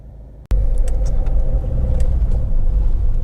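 A 2010 Ford Focus 1.6 TDCi DPF Zetec five-door diesel hatchback on a road test, heard from inside as a steady low engine and road rumble that starts abruptly after a brief quiet moment and holds loud and even.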